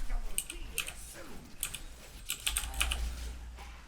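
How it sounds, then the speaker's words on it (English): Loud clacky typing on a Razer BlackWidow mechanical keyboard, with bursts of sharp key clicks in uneven clusters close to the mic, over a low steady hum and brief faint murmurs. "I have the loudest keyboard in the world. Well, it's a Black Widow"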